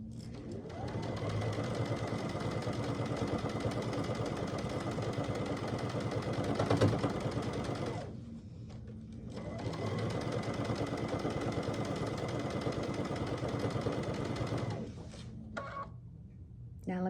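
A sewing machine runs steadily while stitching a fabric pumpkin door hanger, a continuous close mechanical whir that pauses briefly midway, then resumes and stops near the end.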